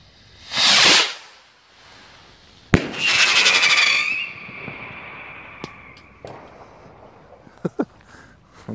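An Umarex firework rocket loaded with four crackers launches outdoors with a rushing whoosh, then bursts with a sharp bang and a loud crackling hiss that fades. Scattered pops and snaps follow, some close and loud, others fainter.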